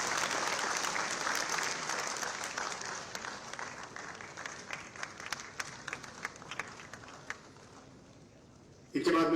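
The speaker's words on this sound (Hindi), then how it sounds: "तालियां बजती रहें" An audience at a job appointment-letter ceremony in Dehradun claps for newly appointed young recruits, with sustained dense applause that thins toward the end before a voice cuts in.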